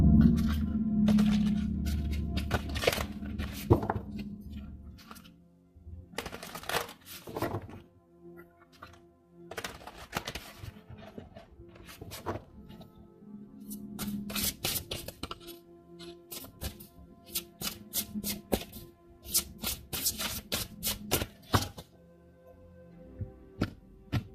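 Oracle cards from the Shaman's Dream Oracle deck are shuffled and drawn, with scattered soft taps, riffles and card slaps at close range in a quiet room.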